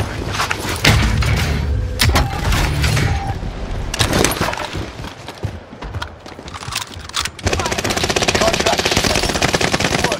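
Heavy gunfire in the video game Warzone: loud, dense bursts of automatic shots and sharp thuds, rattling almost without pause close up, with a brief lull before the firing surges again.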